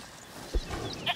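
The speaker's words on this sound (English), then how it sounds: "Listen, is that the goat he talked about?" A goat bleats in A Plague Tale: Requiem, a short, fairly faint cry heard once or twice near the end of a quiet moment, set against soft ambient game sound.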